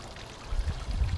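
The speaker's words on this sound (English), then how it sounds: "Need to add some water into this pond." Water pours into a garden pond with a low, steady rushing gurgle that swells partway through, close by and alone.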